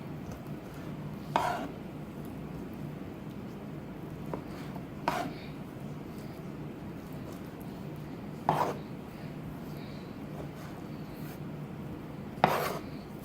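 Knife cutting through lobster tail shell ridges in a home kitchen, three or four sharp crunching chops spaced a few seconds apart over a faint steady background.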